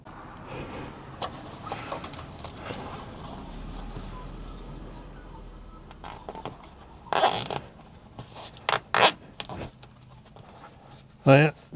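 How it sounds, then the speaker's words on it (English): Plastic zip ties ratcheting tight around a caravan pipe, a few short sharp zipping bursts late on, close and loud, after quieter handling noise. "Got my trusty zip ties, whole packet of them there, they go around the pipe, make it nice and secure."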